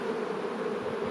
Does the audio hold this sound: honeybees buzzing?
yes